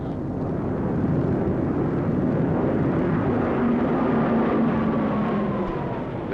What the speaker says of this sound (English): These are Japanese planes.